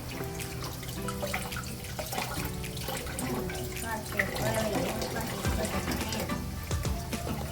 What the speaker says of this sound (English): the water's getting full